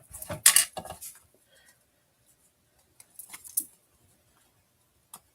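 Scissors snip through a paper card in two short bursts of crisp cutting about two and a half seconds apart, close and clear in a quiet room, with a small tap near the end.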